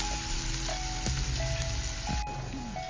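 Finely chopped onion frying in a pan until browned, a continuous crackling sizzle close up with faint tonal hums and a few small knocks, no one speaking.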